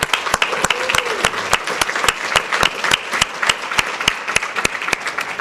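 Symposium attendees clap in sharp, evenly spaced claps throughout, each crisp and distinct against a low murmur of room noise.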